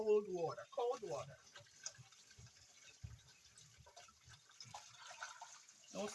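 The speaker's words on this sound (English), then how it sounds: "I'm just going to rinse them again one more time with just fresh cold water" Raw chicken feet for Jamaican chicken foot soup are rinsed under fresh cold water from a kitchen tap, a soft running and splashing stream heard after brief speech at the start.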